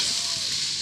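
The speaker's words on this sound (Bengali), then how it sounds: "পোস্ত ভালো করে দিয়ে আরেকবার খুব ভালো করে নেড়ে চেড়ে নেব।" Poppy seed paste sizzles in a frying pan for a brief moment, a steady close frying hiss with a sharp scrape of the spoon at the very end.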